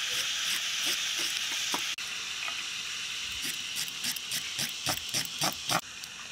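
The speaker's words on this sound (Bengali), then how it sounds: "এঁচড়গুলো আলুর সাথে ভেজে নেব।" Jackfruit pieces and potatoes frying in hot mutton fat, giving a steady loud sizzle with bursts of crackling spatter that thicken toward the end, no voices.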